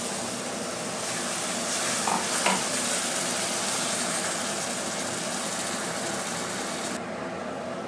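Mutton with tomato and spice paste sizzles loudly and steadily in a pan for a mutton curry, with a few soft clinks of stirring in the middle of the continuous frying hiss.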